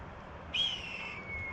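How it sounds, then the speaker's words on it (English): A red-tailed hawk calls outdoors with a single drawn-out, high, thin scream, loud and fairly close, rising over steady background noise before trailing off. "That was a big old red-tailed hawk shouting at me."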